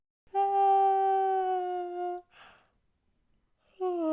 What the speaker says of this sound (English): Sorry, I'm very sorry. I yawned.